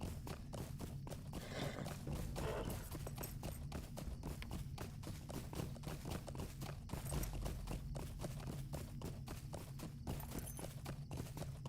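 Horse hooves clip-clop steadily at a quick walking pace in the LOTRO (Lord of the Rings Online) video game, a dense, even rhythm of close hoof strikes running throughout over a low background hum.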